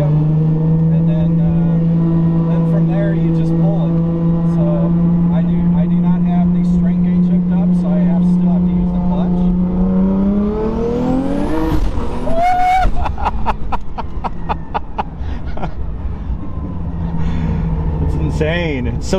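A 1000 hp Nissan Skyline GTR with a motorcycle-style sequential transmission revs hard and climbs through its gears, steady engine drone rising sharply with fast shifts, continuous and loud, with people talking over it.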